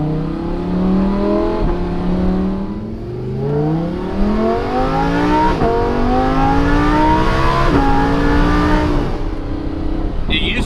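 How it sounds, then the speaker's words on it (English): A straight-piped Lamborghini Huracan's exhaust revs loudly up and down through the gears, rising and falling in pitch close by, with people talking over it at times. "This exhaust will get you in trouble."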